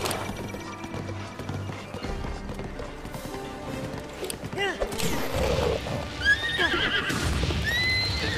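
A horse in Zelda: Breath of the Wild gallops with steady clip-clop hoofbeats, then lets out a couple of shrill neighs over a busy game soundtrack and rumbling effects.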